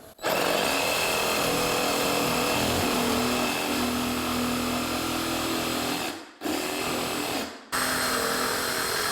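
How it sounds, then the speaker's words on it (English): A jigsaw cuts wainscot trim, its loud, continuous buzzing stroke filling the space close up, broken by two brief pauses before it resumes. "I can just drop a jigsaw blade in there and then go this way, drop it in this hole this way and this way"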